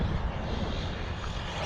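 A ready-to-run RC buggy electric motor at about quarter throttle on a racing track, a steady broad whirring drone with wind rush that holds fairly loud and even throughout, with no talk.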